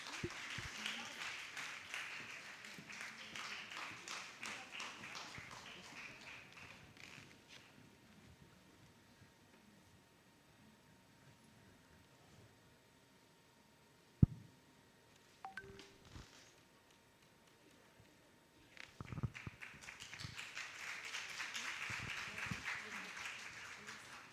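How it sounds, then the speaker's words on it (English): An audience at a regional conference closing ceremony claps in a steady wash of applause that fades out midway, followed by a few faint knocks and then a second swell of clapping toward the end. "Big round of applause, please."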